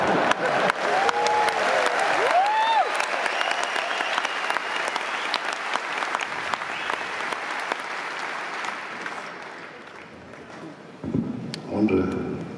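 Audience applause at an arena concert at Ziggo Dome, a loud, dense roar of clapping with scattered whistles and cheers that slowly fades, then briefly swells again near the end.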